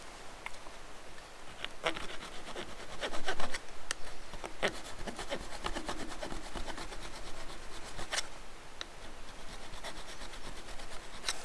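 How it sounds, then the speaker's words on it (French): Hand file rasping inside a metal positioning stop, a steady scraping run of repeated strokes close up, fairly loud and continuous throughout with no talk. "Petit coup de lime à l'intérieur."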